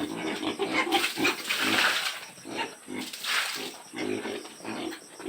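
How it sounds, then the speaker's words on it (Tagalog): Pigs grunting and snorting at close range while being fed, a busy mix of rough grunts and squeals that runs throughout, with a person's voice heard at times over the animals. "So, yung mga baboy,"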